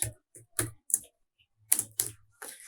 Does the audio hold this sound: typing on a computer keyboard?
yes